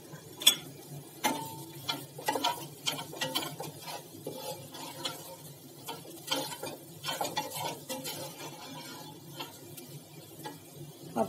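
Garlic potatoes with amchur being stirred in a pan, with soft irregular scrapes and light clinks of a spoon against metal and a faint sizzle, close and fairly quiet.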